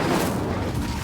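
Incendio fire spell cast during a duel in the game Hogwarts Legacy, a dense, continuous roaring burst of flame lasting about a second with a heavy low-end rumble and no voices.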